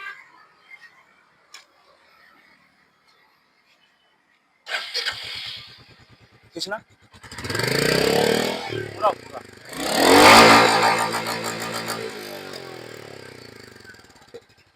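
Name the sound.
Royal Enfield Meteor 350 motorcycle engine revving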